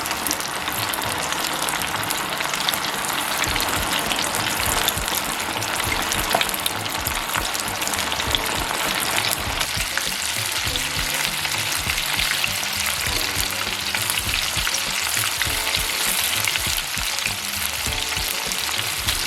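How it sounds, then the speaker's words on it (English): Chicken wings fry in batches in already-hot vegetable oil, giving a steady, loud, dense sizzle and crackle that runs continuously throughout with no talk over it. "And I'm going to be frying them up in batches."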